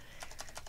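Fingers tap a computer keyboard in four quick clicks, close and crisp over a faint background hum.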